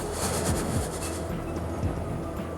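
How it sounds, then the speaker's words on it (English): A train passes close by a queue of vehicles at a terminal for leaving the UK, with a continuous heavy rumble and faint rhythmic clacking of wheels throughout. "coming with the train"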